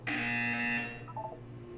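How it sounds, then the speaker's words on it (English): A loud, sustained electronic buzzer tone sounds in a video game, holding steady for under a second before cutting off and fading into a quieter tonal tail. "When you hear the buzzer, look up at the ceiling"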